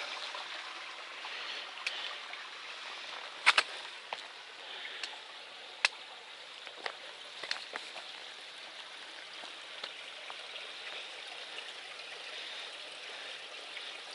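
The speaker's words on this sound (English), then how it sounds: "You can just hear it pouring." Water flowing and pouring somewhere out of sight along the Appalachian Trail in Mahoosuc Notch, a steady soft rushing stream with scattered small ticks and drips, moderately distant.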